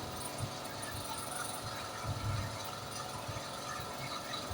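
A sewing machine runs steadily while stitching a fabric sleeve cuff, giving a continuous mechanical whirr and rapid needle clatter at a fairly low level for the whole stretch, with no talking.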